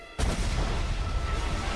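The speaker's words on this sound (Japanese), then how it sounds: "あの音は大砲が壊れた音" A cannon is destroyed with a sudden, loud booming crash that bursts in abruptly and then rolls on as a sustained, dense roar.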